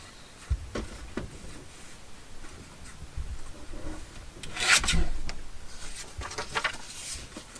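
Scissors cut out a paper castle shape for a handmade card, giving soft close snips and rubbing paper rasps at an irregular pace, with a louder cluster of cuts partway through and no talk.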